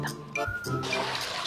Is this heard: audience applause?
no